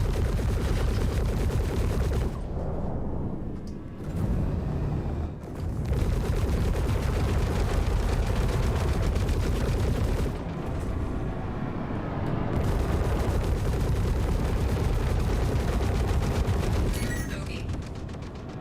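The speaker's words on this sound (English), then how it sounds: "I don't know why I waste my magazine on him, but I'll shoot him anyway." Video game gunfire in PvP space combat, dense rapid bursts of shots and explosive impacts, loud and continuous with brief pauses, a voice faintly underneath.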